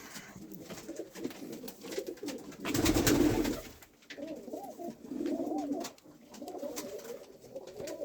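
Pigeons coo in a loft in repeated soft, throaty phrases, close and fairly steady, with a louder burst of fluttering or wing noise in the middle.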